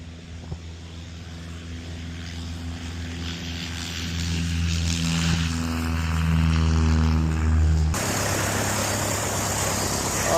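A 1950s Piper TriPacer light aircraft's piston engine drones steadily nearby, rising in pitch and loudness midway as the revs increase, with a throbbing propeller hum.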